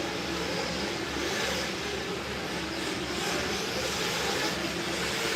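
Several Tekno RC cars race at a Winter Series main event. A dense, steady whine and buzz of small motors fills the track, heard from a distance as one continuous wash of sound with no talk over it.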